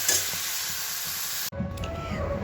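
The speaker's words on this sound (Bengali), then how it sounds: "ভালো করে ভেজে নিই" Onions sizzle and fry steadily in a pan, a dense close hiss with light stirring scrapes, broken by a brief cut before the frying resumes more quietly with faint background sounds.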